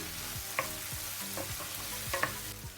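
Chopped tomatoes sautéing in a pan for Jaffna-style prawn curry, a steady soft sizzle with occasional stirring scrapes and clicks of a spoon against the pan, close and fairly quiet, no talking.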